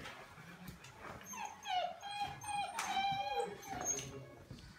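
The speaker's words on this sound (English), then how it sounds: "Is there a dog in the basement?" A dog in a basement whimpers and whines in high, wavering cries, repeating in short bursts at moderate distance, fairly quiet overall.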